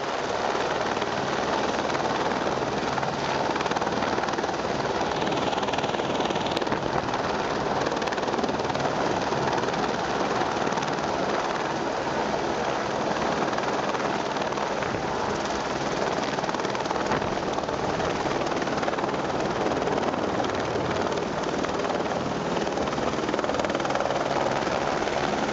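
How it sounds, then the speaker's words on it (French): Firefighting helicopter in flight, a steady loud rotor and engine roar that holds continuous throughout, with no speech. "C'est un travail difficile de lutter contre les incendies à bord d'un hélico."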